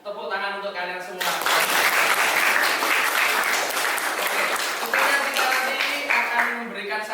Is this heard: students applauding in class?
yes